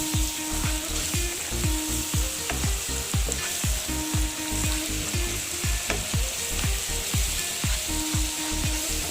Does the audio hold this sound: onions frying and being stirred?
yes